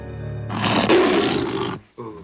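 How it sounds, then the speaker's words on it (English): An alien creature from the movie Gremloids lets out a single loud, rough roar lasting over a second, close and dominant, then cuts off sharply. "Once he hears the aliens roar,"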